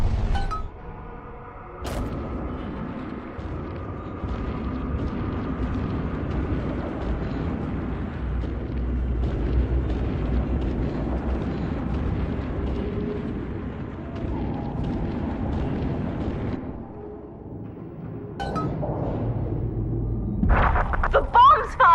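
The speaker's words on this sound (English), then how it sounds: "The bombs, Father! We're falling! Run!" Bombs explode in BioShock 2 as heavy rumbling blasts and debris roll on continuously, with a sharp crack early on and louder crashing near the end, while a voice speaks over the chaos.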